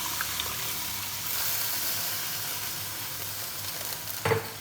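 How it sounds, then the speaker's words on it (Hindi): Water is added to moong dal frying in spiced masala, producing a continuous close sizzle and hiss, with a brief louder splash near the end. "अब इसके अंदर हम पानी शामिल करेंगे। यहाँ मैंने लिया 2 ग्लास पानी।"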